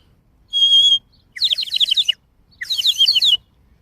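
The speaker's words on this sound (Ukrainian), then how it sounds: "У нього наливається сюди водичка, і потім він співає дійсно як соловей." A porcelain water-filled bird whistle warbles like a nightingale in three short bursts, a clear pure tone followed by two bubbling trilling phrases, close and alone with quiet gaps between.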